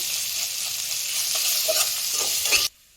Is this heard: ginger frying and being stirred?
yes